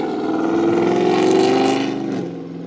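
A loud Dodge Charger engine roars steadily, its pitch holding then dropping as it passes close by and fades slightly.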